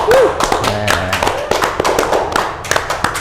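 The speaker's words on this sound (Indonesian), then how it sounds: "Ini yang tepuk tangan ada 40 orang." A studio audience of about forty people applauds at a televised talk show, giving dense, crackling applause full of sharp hand claps that carries on throughout, with someone briefly talking and a vocal tone early on.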